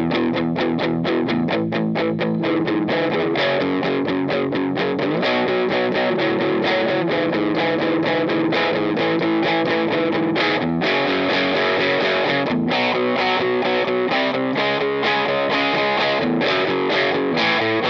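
Distorted electric guitar through a Hagerman Neoklon overdrive pedal, played continuously with gritty chords and riffs, loud and close with no talking.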